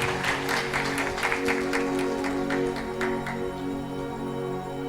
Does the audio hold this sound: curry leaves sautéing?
no